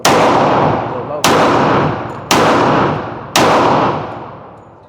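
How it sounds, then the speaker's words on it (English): A Glock 40 Gen4 pistol fires four loud, sharp shots about a second apart, each blast ringing out and decaying before the next. "I was definitely shooting a little low."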